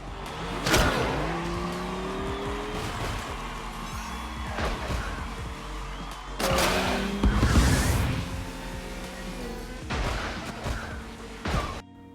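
Race cars in the multiplayer mobile racing game SUP, with engines revving and whining through gear shifts, tires squealing and skidding, and a few sharp crash impacts as opponents are forced off the track.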